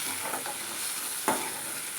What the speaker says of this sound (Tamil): ஒரு 2-3 நிமிஷத்துக்கு தக்காளியை வந்து நல்லா வதக்கிக்கலாம்.